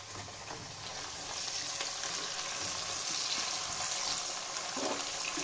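Sliced onions frying in oil for egg biryani, a dense continuous sizzle that holds steady and slightly swells, close and moderately loud, with no voices.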